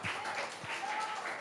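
A church congregation gives short, scattered applause, a few bursts of clapping with faint voices mixed in.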